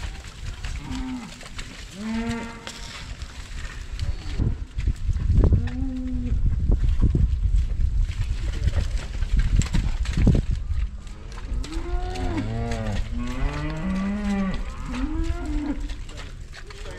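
Cattle being hauled in a trailer, several cows mooing repeatedly at varying pitches over rumbling road and trailer noise, calls scattered across the whole stretch.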